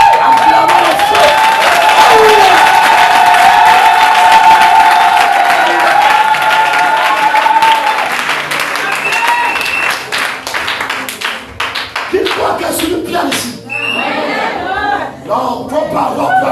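A large crowd applauds and cheers loudly at a church gathering, a steady wash of clapping with voices and shouts that thins out and breaks into scattered claps and talk toward the end.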